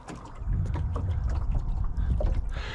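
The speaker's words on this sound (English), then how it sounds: "motoring up this side of the lake" A boat motor runs on a lake with a low, steady rumble under wind noise and water wash, close to the microphone.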